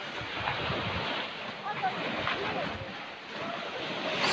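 Sea waves wash against the shore in Bohol, a steady broadband rush of surf mixed with wind buffeting the microphone, continuous and fairly close, with faint voices in the background.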